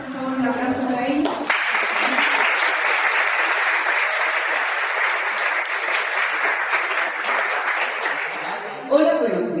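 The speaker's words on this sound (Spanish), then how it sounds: "Por favor, un aplauso para ellos." A school audience at the launch of the novel Caras Ocultas claps in sustained, dense applause that fills the room for several seconds, with brief speech just before and after it.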